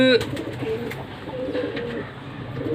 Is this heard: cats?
no